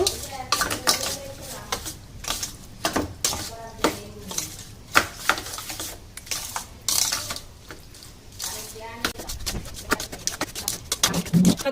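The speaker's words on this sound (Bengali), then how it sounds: "ওর মধ্যে দু চামচ টক দই আর দেব সরিষার তেল ভালো করে চিংড়ি মাছগুলো মাখিয়ে নেব" Prawns are mixed with yogurt and mustard oil in a bowl, producing close, irregular clinks and scrapes of a spoon against the dish with wet squelching, no talking heard.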